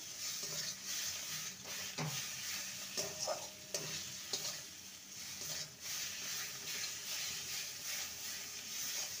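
A spatula stirs mashed kidney beans frying in a pan for a Bengali bean bhorta. A continuous sizzle runs throughout, broken by irregular scraping and clinking strokes against the pan.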